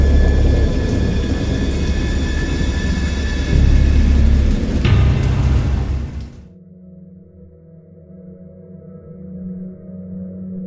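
Heavy rain pours steadily under rolling thunder, loud and dense at first, then cuts to a quieter, distant rumble with lighter rainfall.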